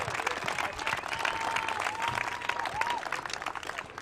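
An audience applauds for Rachel Summers at a pickleball night at a Naples pickleball center, a steady wash of clapping with a few brief whistles or cheers layered in and faint voices underneath.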